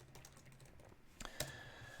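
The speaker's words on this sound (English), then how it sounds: "I'm typing it in." Quiet typing on a computer keyboard, a run of soft key clicks in a steady rhythm, with a couple of sharper, louder taps near the end.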